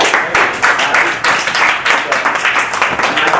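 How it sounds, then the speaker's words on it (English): Enthusiastic clapping from an audience, dense and fairly close, with rhythmic surges as the applause continues steadily throughout. "Give me a huge round of applause."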